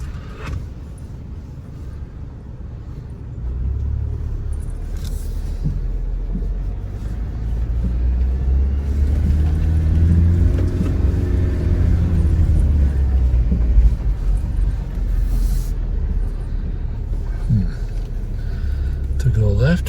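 Truck engine rumbling low and steady while descending a mountain trail in Colorado with terrain mode holding the vehicle back, a continuous drone that swells midway and stays close.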